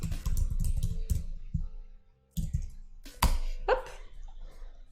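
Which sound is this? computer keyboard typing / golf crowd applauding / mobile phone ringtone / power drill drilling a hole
computer keyboard typing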